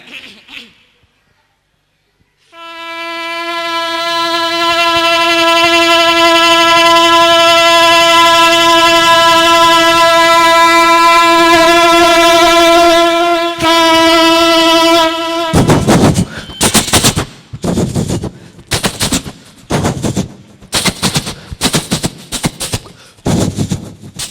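A mimicry performer imitates a big train: a long, sustained horn-like wail, then rhythmic chugging bursts like wheels clattering over a flyover bridge.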